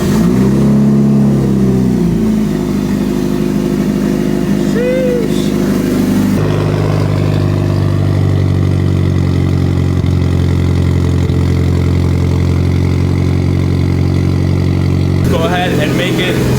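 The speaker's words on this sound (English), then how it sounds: "There's no way I'm not gonna give you guys a cold start for the video." A Mitsubishi Lancer Evo 8 engine fires up cold and settles into a steady, close idle that drones on for the whole stretch, with a brief shift in tone partway through and a higher rev blip near the end.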